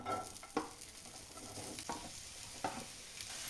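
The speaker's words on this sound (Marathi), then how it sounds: "आता कांदा तळून घेते" Chopped onions frying in oil in a pan for anda bhurji give a steady close sizzle, broken by a few sharp scraping stirs of a spoon against the pan.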